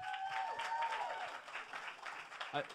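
Audience at the Grammy Museum applauding in a steady wash of clapping, with a voice and tonal sounds over it near the start and a brief vocal burst near the end.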